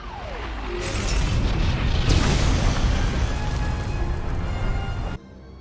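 A supply cache is destroyed in the video game SWTOR, giving a loud, rumbling explosion that swells over about a second. A long roaring, crackling wash follows for several seconds and then cuts off abruptly.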